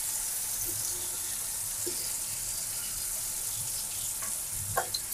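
Spice paste sautés in a pan for taro-leaf curry (kochu saag), a soft, even sizzle running throughout with faint occasional scrapes from stirring.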